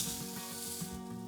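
Pork chops fry in a pan with onion sauce as the water boils off, giving a steady, close sizzle with faint crackle and hiss throughout and no speech.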